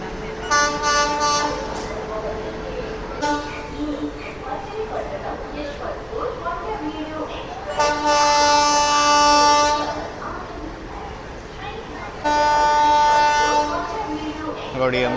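An Intercity SF Express train on the Vijayawada to Lingampalli route sounds its horn in loud, sustained blasts as it arrives at a crowded station platform, with rumbling rail noise between the blasts.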